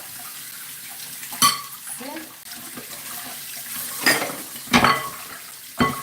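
Tap water runs steadily while dishes clink and knock in a sink, with a few louder clatters and a brief spoken word.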